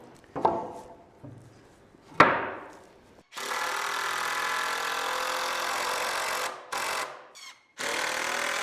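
Screws driven into wooden jack studs with a power driver: a couple of sharp knocks, then long, steady whirring runs broken by short pauses, close and fairly loud.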